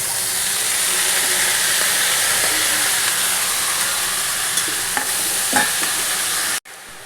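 Cabbage fries in a pan with a loud, steady sizzling hiss, broken by a few scraping stirs near the end, close up and with no talking, before cutting abruptly to a softer hiss.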